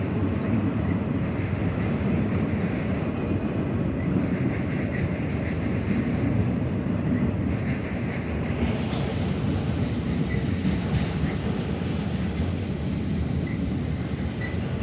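A BNSF freight train passes in Chicago, a loud continuous rumble and rattle of wagons rolling by at close range, steady throughout with no break.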